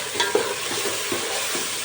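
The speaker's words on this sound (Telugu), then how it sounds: "వేగిపోయిందండి అల్లం వెల్లుల్లి పేస్ట్ కూడా." Ginger garlic paste frying in a pan for chicken, a steady close sizzle with a few soft stirring scrapes and clinks, no talk.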